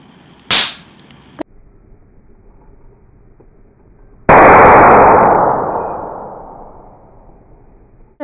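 A sharp close pop from a shorted AA battery, then a second small crack, followed by a loud bursting hiss and crackle that slowly fades over several seconds.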